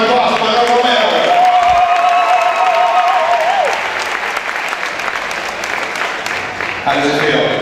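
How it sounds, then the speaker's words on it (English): Audience at an NPC bodybuilding show applauding a guest poser, loud, dense clapping and cheering with a sustained tone over it early on, easing slightly then swelling again. "Let's give her a big round of applause for Manuel Romero."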